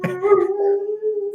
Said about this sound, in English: His dog's barking.